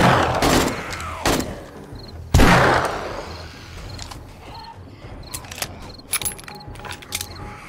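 Gunfire rings out in the survival video game 7 Days to Die during a seventh-day horde attack: a couple of sharp loud shots early on, followed by scattered mechanical clicks and clatter over a busy background.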